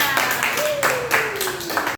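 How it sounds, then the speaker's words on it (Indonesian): Students clapping in a short burst of scattered applause, several people together, with a voice speaking over the claps. "beri tepuk tangan untuk Rina"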